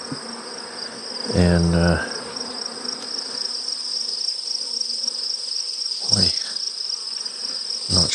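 Honey bees buzzing around mating nucs, a steady high drone throughout with a few louder passing buzzes close by and a brief voice near the start.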